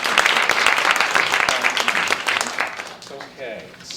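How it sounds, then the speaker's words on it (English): Loud, close audience applause greeting panelists at a social media discussion event, dense clapping that thins out toward the end as a voice begins speaking. "a round of applause to welcome all three panelists"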